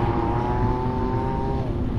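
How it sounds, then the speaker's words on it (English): Gas-powered scooter engine running steadily nearby on a desert trail in Las Vegas, a continuous droning hum with a held pitch and no talk over it. "gas-powered scooter in the background."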